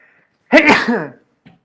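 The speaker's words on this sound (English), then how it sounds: "One second, I have to sneeze." A single loud, close sneeze bursts out after a moment of silence, followed by a brief faint sound.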